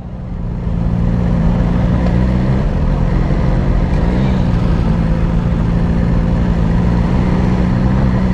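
A BMW S1000R motorcycle engine runs loud and close, its steady throb swelling as the throttle opens after the first second, then holding a strong drone.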